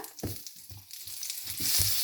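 Butter, about two teaspoons, sizzles in a frying pan previously used for frying, with a steady crackle that brightens toward the end and soft intermittent stirring thumps.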